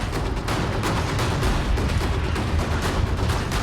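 A controlled explosion at a ski resort on Mount Elbrus, Russia, triggers an avalanche: a continuous, dense roar of blasts and rumbling debris, loud and broadband throughout, with no voices.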